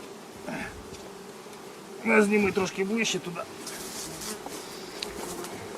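Honeybees buzz around an opened hive during inspection of a lower box on a frame of foundation, a steady insect drone broken by a louder close burst of buzzing, with someone speaking briefly over it.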